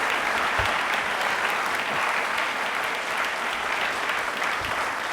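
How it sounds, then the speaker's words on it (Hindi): Steady audience applause fills a Hindi-language televised quiz show studio, honouring Hindi Day, with dense, even clapping holding at full strength throughout without a break. "प्लीज एक बार हिंदुस्तान के लिए, हिंदी के लिए तालियां जोरदार बनती हैं"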